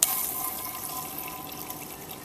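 Pond water pumped through a Lifesaver filter bottle pours out in a steady, hissing stream, close and continuous, with no talk over it.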